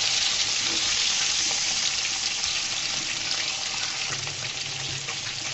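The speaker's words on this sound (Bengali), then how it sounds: "আমি কিন্তু চুলার মধ্যে মাছটাকে ভেজে নিচ্ছি, সেই জন্য আমার মাছটা তাড়াতাড়ি ভাজা হয়ে গিয়েছে।" Rui fish frying in a pan on a stove makes a dense, steady hiss of sizzling oil, close and continuous from start to finish, with no voices.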